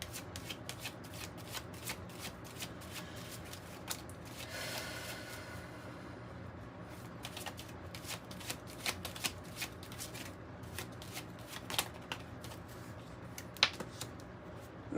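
Kipper oracle card deck shuffled by hand, a steady run of crisp papery riffles and snaps with occasional sharper flicks, close and fairly quiet, no talking.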